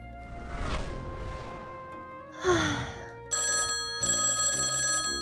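A telephone rings in a Minecraft roleplay scene. A ringtone sounds with repeated bright tones in a short sequence, close and clear, alongside a brief gasp-like effect.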